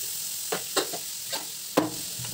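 Salt, pepper and coriander toasting in a hot pan, heard as a few short, sharp stirring scrapes over a soft, low hiss, with no talking.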